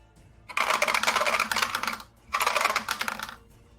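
Dice clatter across a tabletop during a tabletop game in two bursts, each a dense rattling roll of about a second and a half, separated by a short pause and heard close up.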